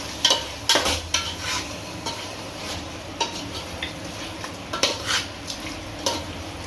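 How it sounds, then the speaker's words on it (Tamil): Chicken pieces turned in biryani masala in a pot, with a low sizzle under irregular scrapes and clanks of a spoon against the metal, the strokes coming in uneven bursts close by. "சிக்கனை ஆட் பண்ணிட்டு இதை நல்லா நம்ம கிளறி விட்டுறலாம்"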